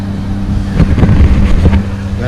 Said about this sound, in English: So many little boats going.